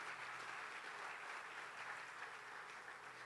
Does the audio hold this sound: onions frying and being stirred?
no